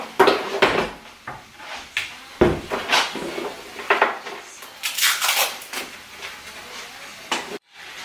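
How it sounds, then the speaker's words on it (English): Rice cooker taken out from a cupboard in a home kitchen, with a series of clanks and knocks of pots, pans and lids being moved, sharp irregular bangs close by. "So I'm just going to get my rice cooker out."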